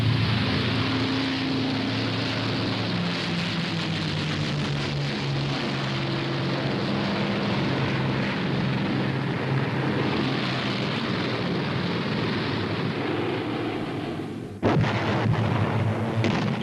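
Archival wartime roar of WWII bombers over Germany, a dense continuous wash of heavy aircraft engine drone mixed with rumbling blasts and crackling, loud throughout with a sharp burst near the end.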